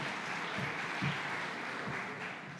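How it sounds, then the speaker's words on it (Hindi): A Hindu spiritual gathering's audience applauds while Devkinandan Thakur is honoured on stage; a steady wash of distant clapping fills the whole stretch at even strength, with no voices over it. "आपकी ज़ोरदार तालियां भी हों तो इस सम्मान की घड़ी का"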